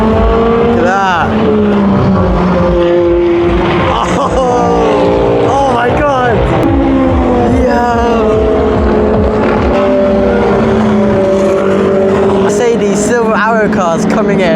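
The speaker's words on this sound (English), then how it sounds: "Cars coming in. Look at that. That's fast." Race cars, including Aston Martins and Ferraris, roar past one after another at the Le Mans 24 Hours, engines whining up and down in pitch at speed, loud and continuous with voices talking underneath.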